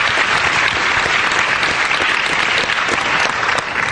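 Loud, dense audience applause fills a hall at a panel debate on whether the Christian God exists, a sustained wash of many hands clapping evenly throughout with no pause.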